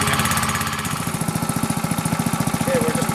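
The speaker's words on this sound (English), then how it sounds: "You always want to let these engines warm up. We'll let it run for a minute or so" A mulching machine's engine idles while it warms up: a loud, close, steady low chugging with an even throbbing rhythm throughout, and no one talking.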